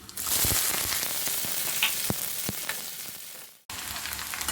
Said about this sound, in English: Fry until the onions are golden brown.